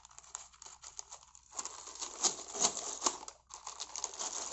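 Scissors snipping open a small plastic Lego parts packet, crinkly cuts and rustling in short irregular bursts, close and fairly quiet, with no talking.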